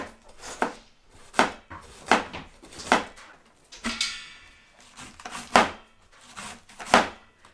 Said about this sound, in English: Finished chopping the cabbages.